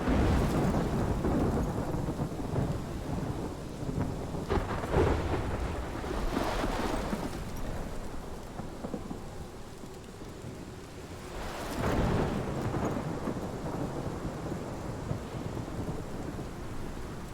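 A heavy thunderstorm in the game Life is Strange: steady loud rain pours throughout, broken by deep rolling thunder cracks at a few points, with no voices.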